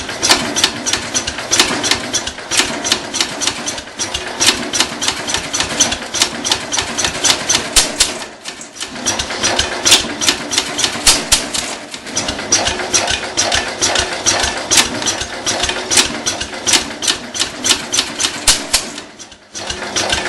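A Cub Cadet 147 lawn tractor with a 14 hp Kohler K321 engine runs steadily at half throttle and full choke, a loud, continuous rapid chugging beat throughout, close up with no talk.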